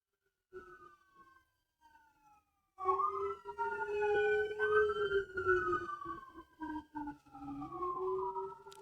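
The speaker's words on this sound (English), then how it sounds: "an ambulance went by outside just now" An ambulance siren outside wails with rising and falling tones, swelling as it passes nearby and fading slightly toward the end, after a few faint quiet notes.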